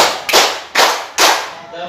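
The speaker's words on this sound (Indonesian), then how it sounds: "Tepuk 1, tepuk 2, tepuk 3, tepuk" Three sharp, loud hand claps spaced about half a second apart in a classroom clapping game, each ringing briefly before the next, with no speech between them.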